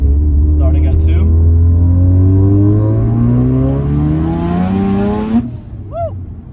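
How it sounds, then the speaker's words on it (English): Turbocharged rotary engine of a Mazda RX-7 pulling hard in second gear, a loud close rising whine that climbs steadily for about five seconds before lifting off, with a brief exclamation at the end. "we'll do a pull real quick. Second gear, starting at 2."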